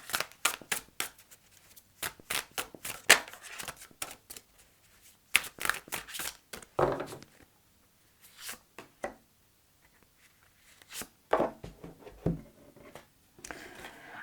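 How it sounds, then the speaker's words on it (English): Tarot cards slap and slide onto a table in quick bursts, with crisp close shuffling and flicking sounds separated by short pauses of near silence. "Let's put some more cards out here."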